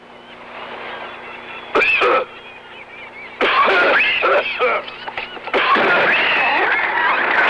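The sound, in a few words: man coughing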